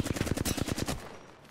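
Rapid automatic gunfire burst in Apex Legends on Broken Moon, a fast rhythmic spray of about a dozen close, loud shots that cuts off and fades into a quieter tail.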